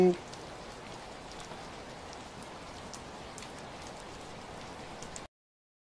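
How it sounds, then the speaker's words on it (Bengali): Steady, soft rain falls continuously, a fine even patter on surfaces without a break, quiet and constant until it cuts off. "একটু দাঁড়িয়ে যা, বৃষ্টিটা এখনই কমে যাবে"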